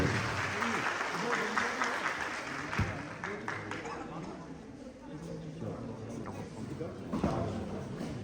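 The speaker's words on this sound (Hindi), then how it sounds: "ताली बजाएगा बच्चे" Children applaud at a degree college voter awareness program, a sustained crowd clapping that swells and fades under continuous speech and chatter.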